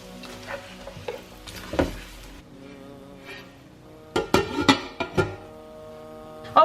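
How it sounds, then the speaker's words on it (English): Chopped onions stir and sizzle in a pan as they fry toward golden brown, with scraping strokes of a spoon and sharp clinks of utensil against the pot over a soft frying hiss. "And we're going to cook these onions until they are nice and golden brown."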